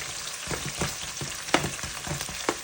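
Ingredients for Ghana jollof rice fry in hot oil with a close, steady sizzle, broken by repeated scraping stir strokes that land roughly twice a second, with no voices.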